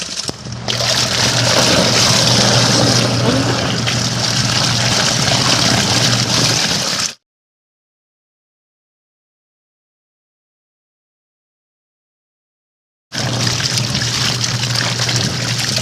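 A portable washing machine agitates clothes in water, giving a steady sloshing churn over a low motor hum. The sound runs for about seven seconds, stops dead into silence, then starts again near the end.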